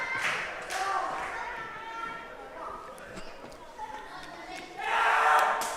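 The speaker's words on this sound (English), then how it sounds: "the crowd really coming unglued right now, cheering on all 6 men" A crowd at a six-man pro wrestling show roars and cheers, swelling in bursts with scattered shouts and thuds from the ring, loudest near the end, while voices talk over the noise.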